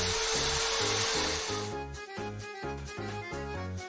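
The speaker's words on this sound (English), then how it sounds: "Drill holes." A drill bores holes in a plumbing pipe in the game I Bought a Pet Shop, a loud steady whirring drone with a rhythmic pulsing pattern, heard alone.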